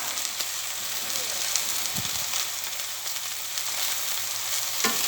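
A steak sizzles and fries steadily in a hot pan, a dense continuous crackle at close range with a brief low knock around the two-second mark.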